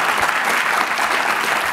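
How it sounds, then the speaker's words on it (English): A roomful of people claps continuously in a brief, even burst of applause, loud and close with no voices on top. "if I could have a round of applause for them"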